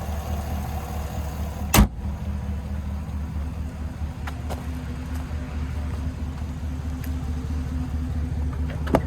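A 6.2 liter V8 in a 2026 GMC Sierra 1500 Denali Ultimate idles with a steady low rumble, heard up close from the open engine bay, with one sharp click early on.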